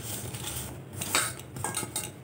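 A spoon mixes gram flour and sliced onion into a thick batter for onion fritters in a bowl, making quiet, irregular scrapes and soft clinks close by, with no voices.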